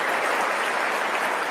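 Audience applause after a remark at a live event with a conversation on stage, a steady, dense wash of clapping from many hands that holds evenly for its short length.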